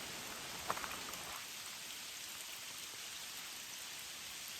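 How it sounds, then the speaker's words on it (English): Steady rain falls outdoors among lush ferns, a continuous soft hiss of drops with a few brief louder ticks near the start and no voices. "Another beautiful day of rain."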